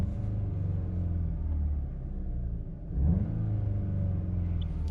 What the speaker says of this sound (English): we'll give it a couple revs